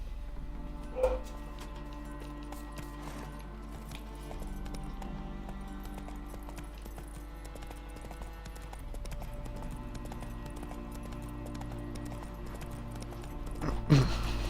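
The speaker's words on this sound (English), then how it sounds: "Puto caballo este, tío, está bugueado." Horse hooves clip-clop in The Witcher 3: Wild Hunt on Xbox One, a soft, steady rhythmic plodding at low volume under a constant background hum, with a couple of brief louder knocks.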